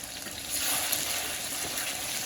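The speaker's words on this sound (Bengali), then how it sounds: "তো যে মাংস কষানি শুরু করে দিছি" Broiler chicken meat sizzles steadily in hot oil in a home kitchen while being stir-fried down to a thick, dry curry, giving a continuous close hiss with no pauses.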